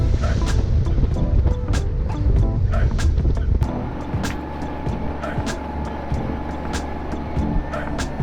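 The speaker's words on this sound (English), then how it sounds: "You hear that? That sweet, sweet sound of the engine." A sailboat's engine drones steadily while motoring into the wind, a continuous low rumble with wind and water noise around it and a few intermittent knocks.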